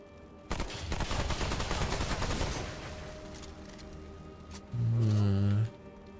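Gunfire aimed at a ball-and-chain target in the Remnant II video game, a rapid rattling burst lasting about two seconds, then a short loud mechanical tone, with no speech over it.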